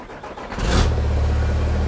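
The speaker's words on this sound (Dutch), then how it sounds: "Shane, can you start the car?" The engine of a 1200 hp Apollo Tyres race truck cranks and fires with a sudden loud roar, then settles into a deep, steady, close idle.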